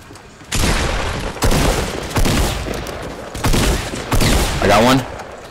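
Gunfire from a squad shooter video game arrives as loud, heavy bursts of rapid shots, roughly five volleys in close succession with brief dips between them.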